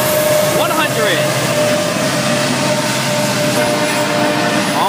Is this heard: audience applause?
no